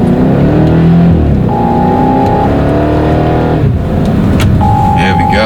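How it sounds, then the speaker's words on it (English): A 2010 BMW X5M in sport mode revs and accelerates hard with a loud, close exhaust roar, its pitch rising and shifting, while someone talks over it. "You can almost immediately hear the valves open up in the back with the exhaust."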